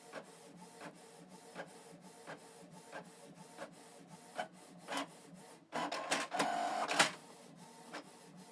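A Canon MG2556S inkjet printer prints a single color page over a USB connection, with rhythmic mechanical clicks and ticks that give way to a louder, sustained feeding and whirring run near the end.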